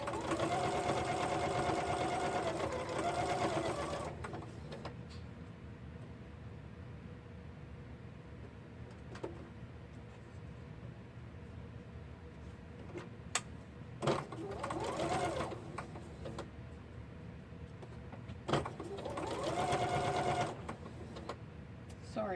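Sewing machine stitching in bursts: a steady mechanical whir for several seconds, then quieter stretches with small clicks and handling noise, then a second run of stitching near the end, close and fairly quiet.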